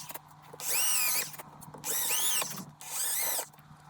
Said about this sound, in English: Countersink bit.